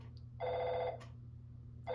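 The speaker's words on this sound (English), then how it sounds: "The phone will keep ringing until you press the A button." Telephone ringing in the video game EarthBound, a retro electronic ring in two short bursts separated by a pause, clear over a low background hum.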